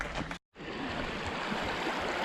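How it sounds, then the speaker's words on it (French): The Rivière des Galets on Réunion rushes along in a steady broadband roar of flowing water, close and continuous after a brief dropout near the start. "La fameuse rivière de Galets"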